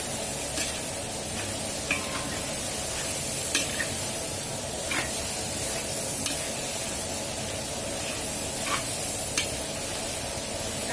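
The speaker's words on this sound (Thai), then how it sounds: "ผัดไปเรื่อยๆนะอย่าใช้น้ำมันมากนะคะ ใช้น้ำมัน น้อยๆหน่อยเนาะ แล้วก็ผัดไปเรื่อยๆนะคะ" Chili paste and pork stir-fry in a little oil, a steady moderate sizzle broken by repeated scraping stirs of a spatula against the pan; no talking.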